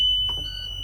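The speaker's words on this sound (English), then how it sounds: "Fully functional with the alarm going off." A bus emergency exit door alarm sounding during a pre-trip inspection of a school bus, a steady high electronic tone held throughout over a low background hum.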